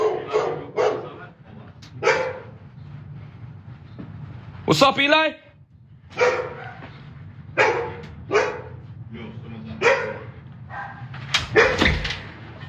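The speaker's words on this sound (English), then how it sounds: "Oh, the dog's there." A dog barks outdoors during a street confrontation, with several sharp barks in a burst near the middle and more scattered toward the end, mixed among loud, shouting voices.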